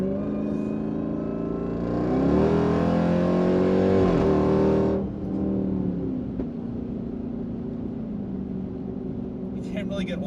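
A Jeep Trackhawk engine revs up hard, rising to a loud sustained roar, then drops back to a rumbling idle with some faint background noise near the end.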